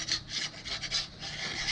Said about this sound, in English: Started sanding this with 220, and it just wasn't going anywhere.